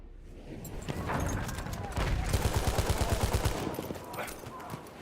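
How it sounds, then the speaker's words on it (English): Gunfire from a video game set in World War I, Battlefield 1, with rapid repeated shots and sharp cracks packed around the middle of the span, loud and close amid a busy battlefield din. "Why are you just shooting at me with a pistol from over there?"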